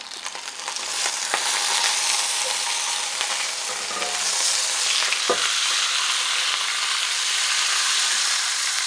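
A whole chicken sizzles steadily on a Ninja Sizzle Pro XL indoor grill, a loud continuous fry with a few brief clicks and scrapes from tongs as it is turned over, no talking.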